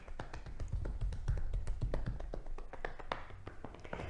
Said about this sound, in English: with some soft fists, just tap up and down the legs